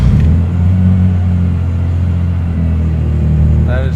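A 1960 Aston Martin DB4 Series 2 idles loudly just after a cold start with the choke pulled, a deep steady rumble close by, ending in a brief rising rev.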